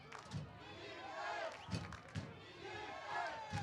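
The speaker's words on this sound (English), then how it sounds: "You hear the crowd chanting defense, trying to give some life to the Harlandale Indian defense" Football crowd in the stands at Memorial Stadium chanting "defense" for Harlandale's defense during a Vets Memorial vs Harlandale high school game, a steady rhythmic roar with thumping accents about every 1.5 seconds.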